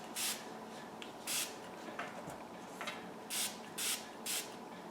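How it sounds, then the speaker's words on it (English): Short hissing bursts of liquid sprayed from a spray bottle onto the bare roots and under the leaves of a mini Phalaenopsis orchid, six close, evenly spaced puffs over a quiet background. "these ones I'm going to spray the whole root"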